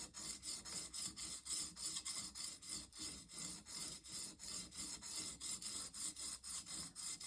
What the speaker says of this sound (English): So sounds like a very coarse secondary bevel grind, and it's really catching on the sharpening pedal.